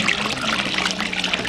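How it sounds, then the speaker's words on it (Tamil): Water left from soaking urad dal is poured out in a village kitchen during onion vadagam making, giving a brief steady trickling, splashing flow at close range with no one talking. "உளுந்து ஊற வச்ச தண்ணியாக ஊற்றுறாங்க மறுபடியும் இதெல்லாம்."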